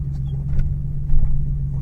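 A 1990 BMW car engine gives a steady, loud, low rumble up close, swelling slightly once or twice as it runs.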